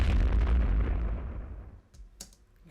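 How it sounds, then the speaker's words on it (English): A library sub hit sound effect with some midrange lands as a heavy, booming impact and decays over about two seconds, followed by a few faint clicks. "Tonal sub hit with a little bit of mid."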